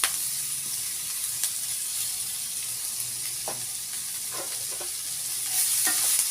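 Chopped banana flower stirred in a hot pan with turmeric, a continuous hissing sizzle broken by occasional spatula scrapes, close and steady with no talking.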